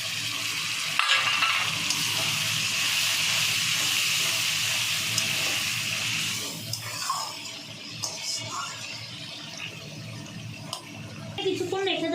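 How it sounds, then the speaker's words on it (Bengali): Hot water goes into a pan of chopped tomatoes, setting off a loud, steady hiss and sizzle that lasts several seconds before dying back to softer bubbling with occasional scrapes and clinks. "দিয়ে দেবো সামান্য পরিমাণ গরম জল"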